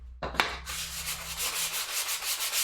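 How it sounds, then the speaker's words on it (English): Wooden bookends being sanded by hand: after a sharp knock, a steady rhythmic scratching rub repeats in close, even strokes, loud and alone. "A little bit of sanding, and then see what it looks like assembled."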